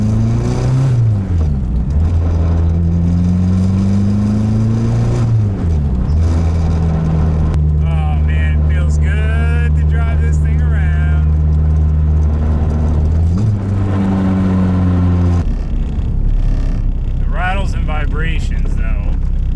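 Turbocharged K24-swapped Nissan Cefiro accelerating on a road drive, engine pitch sweeping up and down through several loud revving pulls with gear changes, wind buffeting the microphone throughout.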